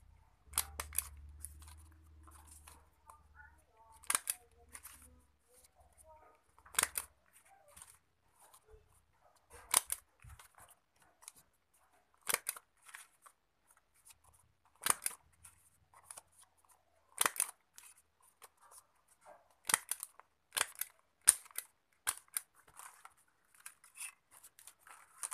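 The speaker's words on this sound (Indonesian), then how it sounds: "Bolehlah kita pakai jepret ini." A stapler punches through stacked layers of a handmade Balinese sampian offering: sharp, isolated clicks come every few seconds across a long, otherwise quiet stretch, close to the listener.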